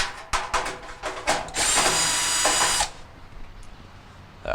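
A power drill whirs in a steady burst of a second or so, backing out the screws that hold the top and bottom halves of a Whirlpool dryer's heating element housing together, with shorter bursts and clicks of the tool before it and handling noise after.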